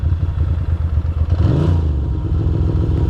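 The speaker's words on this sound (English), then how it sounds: "I forgot that in the wet, sometimes one of the cylinder cuts out." A Ducati Monster 620 engine runs on a wet city street with one cylinder cutting out, giving an uneven, stumbling low rumble that swells briefly midway and stays close and steady throughout.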